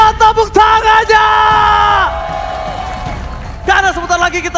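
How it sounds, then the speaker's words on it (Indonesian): A loud crowd at an MPL Mobile Legends esports playoff arena yells and whoops in long sustained cheers, fading briefly before another burst of shouting erupts at the end. "Minta tepuk tangannya"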